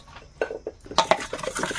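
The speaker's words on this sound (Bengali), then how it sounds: "কড়াইতে এখন তেল দেবো" Pots and metal utensils clatter and clink at a wok over a wood fire before fish is fried, with a few sparse knocks followed by a denser burst of close handling.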